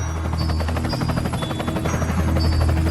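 A cartoon helicopter drones steadily with a rapid rotor chop and whine, loud and continuous, as characters fly off toward a movie theatre.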